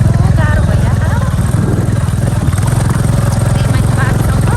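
A motorcycle rides a rough, bad mountain road between Dang and Rolpa in Nepal, its engine throbbing loud and close with steady chugging and rattling throughout while a person talks over it.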